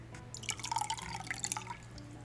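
Water is poured back into a small plastic vintage Polly Pocket Splash and Slide waterpark toy, a short close trickle with light drips and splashes.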